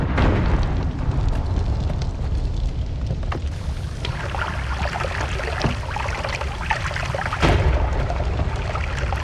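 A rumbling bomb blast and crackling debris in the Noita video game, a loud sustained roar with scattered pops and bursts, plus a sharper boom late on.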